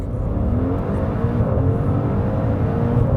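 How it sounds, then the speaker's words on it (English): A 2021 Maserati Levante GTS launches from a stop in sport mode with stability control off, its engine roaring loud and close in a sustained hard pull as revs climb through the gears. "All right, so let's launch this thing."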